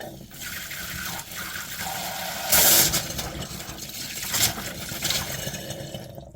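Water from a caravan shower head sprays and splashes in a steady hissing rush, surging louder in bursts as it runs during a drain-down, alongside a faint background hum.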